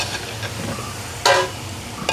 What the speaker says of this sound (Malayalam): ചിക്കൻ ഇടുന്നു കേട്ടോ.